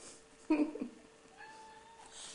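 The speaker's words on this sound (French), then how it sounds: "Il est beau mon chat, hein." A domestic cat gives a short, fairly close meow in a quiet room, with faint background sounds and a faint voice afterward.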